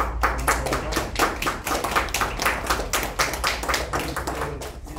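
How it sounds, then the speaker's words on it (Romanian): Sustained applause from an audience at a painting and poetry exhibition opening in a cultural centre, dense and steady clapping throughout, fairly close, with no talking over it. "Să-l aplaudăm!"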